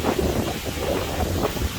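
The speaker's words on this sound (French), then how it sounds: "désolé s'il y a un peu de vent" Wind blowing outdoors, buffeting the microphone in a steady, loud rumble with no voices.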